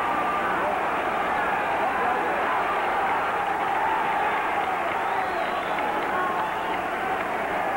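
A boxing crowd roars steadily through a late-round fight between Kid Gavilan and Danny 'Bang Bang' Womber, a dense, continuous wall of cheering at constant loudness with no pauses.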